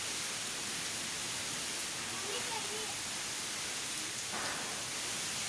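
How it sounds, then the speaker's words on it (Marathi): Heavy rain driven by stormy wind in Wangani, a steady dense hiss of downpour filling the whole stretch without pause, fairly close and even in loudness. "वादळी वाऱ्यासह वांगणीमध्ये जोरदार पाऊस झालाय।"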